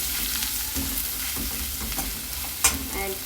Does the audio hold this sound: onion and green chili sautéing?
yes